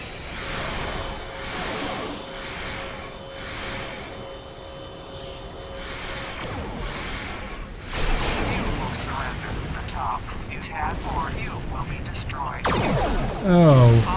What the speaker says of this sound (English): he is firing some heavy disruption torpedoes at the time ship